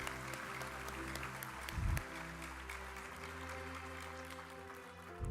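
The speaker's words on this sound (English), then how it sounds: "give a round of applause to our beloved true parents." An audience claps at a memorial pledge service for the anniversary of True Father's holy ascension, a fairly faint, steady wash of applause over a sustained low tonal background of music.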